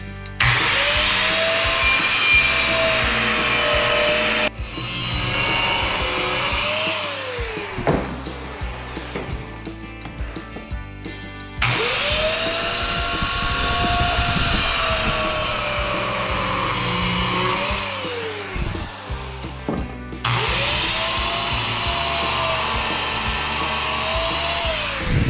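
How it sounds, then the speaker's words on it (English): A Dremel Saw Max cuts through MDF board in three long, loud whining passes. Each pass ends with the motor spinning down, and quieter handling noises come between them. "I'm gonna clean up a lot more of this with my Dremel Saw Max, which cuts right through this MBF board with no problem"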